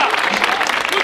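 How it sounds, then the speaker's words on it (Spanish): Loud, close applause from a crowd after the final of a freestyle rap tournament, a short dense burst of clapping with cheering voices mixed in. "¡Fuerte el aplauso!"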